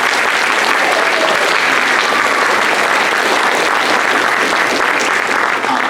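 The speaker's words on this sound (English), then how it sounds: "So can we please give them all a round of applause?" Loud, sustained applause from a school audience at a holiday band concert held in a borrowed hall, a thick continuous roar of clapping hands that stays even and close from start to finish.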